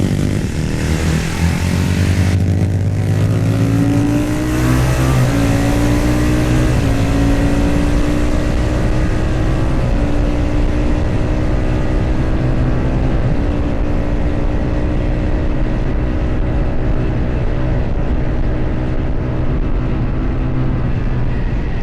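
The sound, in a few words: Manx Norton racing motorcycle engine at Snetterton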